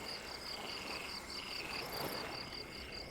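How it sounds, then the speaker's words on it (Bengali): Ghumri crickets chirp in grassy marsh land, a faint steady high-pitched pulsing trill that repeats in even bursts over a soft hiss of background noise. "ঘুমরি পোকা শব্দ করে ডাক শুরু করে দিয়েছে ঘাসের বনে"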